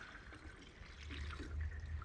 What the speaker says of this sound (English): So I'm able to fill up my jugs, and I also fill these up too.